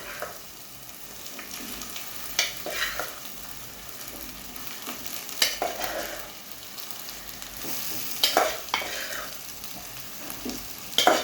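Rice tipped into a hot pan and stir-fried for fried rice, giving a low crackling sizzle broken by repeated scraping stirs and clattery bursts from a spatula, close by and uneven in rhythm, with no talking.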